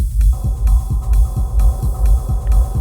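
A techno kick drum thumps in a steady four-on-the-floor pulse through a compressor, with deep, loud, evenly spaced booming hits and faint clicky ticks between them.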